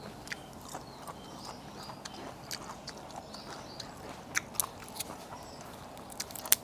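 Crystal longan fruit, a dense, firm-fleshed longan, being bitten and chewed close up, with soft irregular crunches and wet mouth sounds and a few sharper bites toward the end.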